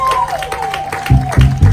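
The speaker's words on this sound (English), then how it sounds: "clap your hands one more time. Make some noise" An audience claps and cheers at an online Harriet Tubman freedom music festival, a loose rhythmic clapping that grows into louder bursts beneath a sustained vocal or musical tone.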